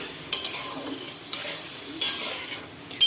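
Dal poured into sizzling fried spices for a tadka sets off a loud hissing sizzle close by, with several sharp bursts of spattering as the liquid hits the hot oil.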